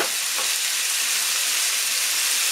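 Pork steaks sizzle steadily in a pan, a continuous close hiss of frying fat with no voices.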